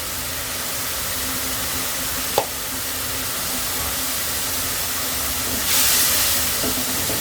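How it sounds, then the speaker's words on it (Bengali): Spice paste with cumin powder fries in a pan for a shrimp curry with beans, long beans and okra, giving a continuous even sizzle and hiss, with a brief clink of a utensil. "মশলাটা ভালো করে কষিয়ে নিই।"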